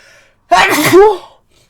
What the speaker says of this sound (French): L'éternuement, c'est quoi?